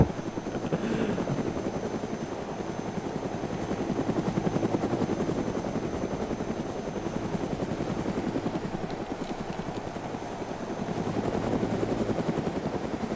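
A helicopter in the video game DayZ, on the Lingor Island map, drones close and loud with a steady thumping rotor chop. The sound continues unbroken for about thirteen seconds and swells slightly at times.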